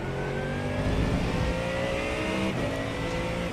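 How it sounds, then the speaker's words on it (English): Race cars, including Ferraris, in the iRacing sim game, with a steady, loud engine drone and shifting pitch from several cars running close together throughout, no talking. "You got a slow car on the left, slow car ahead, car stop on the right."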